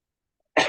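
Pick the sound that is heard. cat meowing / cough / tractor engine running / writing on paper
cough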